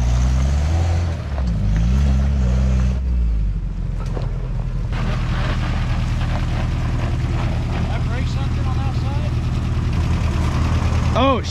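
An off-road vehicle's engine idles steadily with a low rumble, and it has oil getting into the combustion chamber. Voices talk over it throughout, and a brief rising whine comes near the end.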